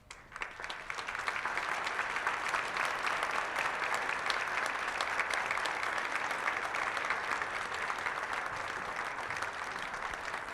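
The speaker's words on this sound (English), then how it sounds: "I would like to ask them to stand and we give them a round of applause" A large audience at a city's annual address gives sustained applause for standing city staff, a dense, steady wash of clapping that swells in within the first half-second and holds strong and even throughout.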